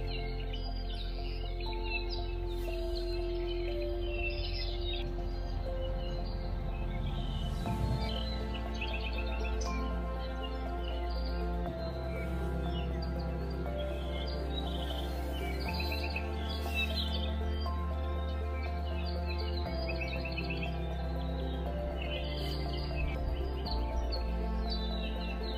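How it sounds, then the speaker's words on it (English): Birds chirp and sing intermittently outdoors over a steady low hum, their calls faint to moderate and scattered throughout. "I went outside and I was listening to the birds,"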